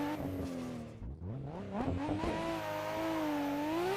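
A Nissan Skyline R34 in the Assetto Corsa racing game launches and pulls hard, its engine note rising in pitch through the gears with a brief dip at a shift, loud and close with no voices.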